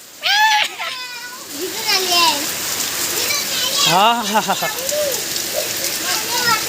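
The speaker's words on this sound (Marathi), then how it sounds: "मस्त आणि अचानक पाऊस आला" Steady rain patters down throughout in a Konkan village, with a child and adults chattering over it and a few high bird-like chirps.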